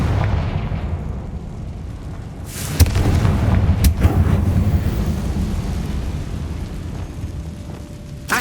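Fiery spell explosions from Hogwarts Legacy combat: a dense, rumbling blast roars in around three seconds, a second sharp crack follows near four seconds, and a heavy, booming wash of fire and debris keeps churning loudly underneath.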